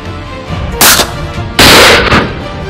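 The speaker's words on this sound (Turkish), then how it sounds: "Hayatımda ilk defa bir tüfek atacağım şimdi." Two loud rifle shots go off close by, one after the other, each a sharp crack followed by a short rumbling echo.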